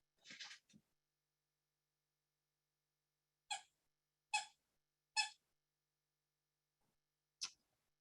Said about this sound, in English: so if you hear some squeaking in the background